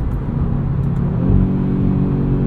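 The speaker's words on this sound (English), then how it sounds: "I love the way this 5-cylinder sounds" The five-cylinder engine of a 2022 Audi RS 3 with a seven-speed dual-clutch gearbox drones and builds under acceleration, heard from inside the cabin as a steady, loud, deep rumble that rises slightly midway.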